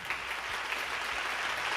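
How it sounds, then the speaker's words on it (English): A crowd's applause rings out as a steady wash of clapping, fairly faint and distant, continuous throughout with no talk over it. "let's give this guy a round of applause"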